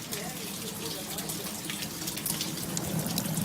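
Water pours steadily through a leaking ceiling into buckets below, a continuous broad gushing and splashing that swells slightly toward the end, with no one speaking.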